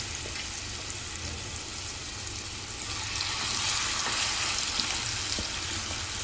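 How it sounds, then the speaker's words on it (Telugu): Marinated chicken hits hot oil and fries with a loud, continuous sizzle and crackle, swelling slightly midway, with no talking over it. "ఇప్పుడైతే ఆయిల్ కూడా హీట్ అయిపోయింది కలిపిన చికెన్ మొత్తం దాంట్లో వేసేసేయాలి"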